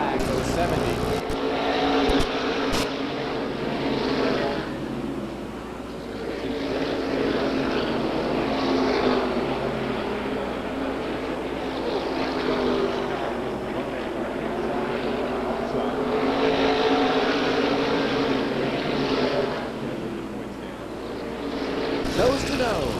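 Race cars at the Waterford Speedbowl pack nose to tail around the track, their engines making a continuous loud roar with a voice talking over it.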